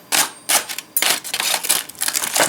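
Close, crisp crinkling of a folded paper package around baked Mediterranean seabass al cartoccio as it is opened, in several quick rustling bursts with brief pauses between.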